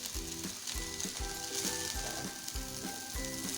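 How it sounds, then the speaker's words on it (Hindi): Chicken fried rice with chicken powder and white pepper is tossed and stirred in a hot pan, with a constant sizzle and rhythmic spatula scrapes repeating about every half second, a faint tonal hum running underneath and no speech. "अच्छे से मिक्स करेंगे इन तमाम चीज़ों को।"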